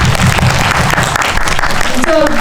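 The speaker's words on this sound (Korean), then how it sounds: "감독님께 박수." An audience at a Korean film screening and talk event applauds the director, dense clapping filling the hall at close range for a couple of seconds under a voice.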